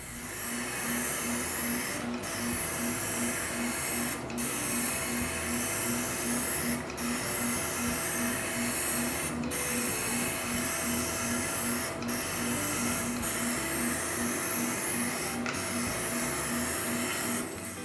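Spray gun steadily misting a coat of lacquer onto walnut wood, a continuous broadband hiss with short breaks roughly every two seconds between passes.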